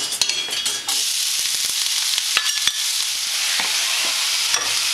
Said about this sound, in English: A bit of olive oil, and I'm just gonna pop in the onions.